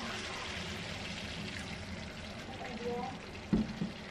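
Hot tap water pours into an IKEA frying pan holding onions, a steady low wash with faint sizzle, ending in a couple of sharper splashes; someone speaks over it.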